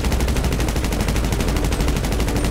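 Sustained automatic fire from a specialized MK2 rifle in a video game, a steady rapid stream of evenly spaced loud shots running without pause from start to finish.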